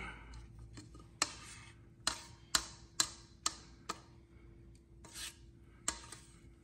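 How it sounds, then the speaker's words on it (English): A spatula scraping around a mixing bowl during baking: quiet, close scrapes and clicks in an uneven rhythm, about a dozen strokes with faint rubbing between them, no talking. "Let's scrape the bowl."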